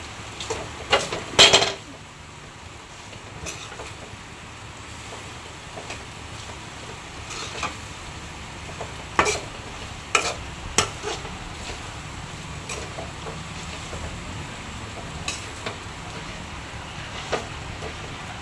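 Paklay being stirred in a frying pan, a steady sizzling hiss broken by scattered sharp clinks and scrapes of a utensil against the pan, with a few louder clusters of knocks. The clip is close and moderately loud.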